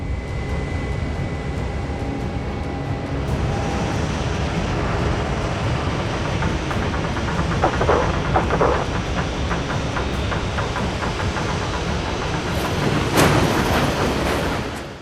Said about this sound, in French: une démonstration de son fonctionnement en utilisant le courant d'air puissant généré par le réacteur d'un Boeing 777